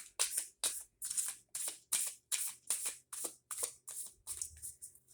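Cards from a Personal Power Oracle deck shuffled by hand in a quiet room, a crisp riffling burst repeating about a dozen times at a steady rhythm, close and fairly loud.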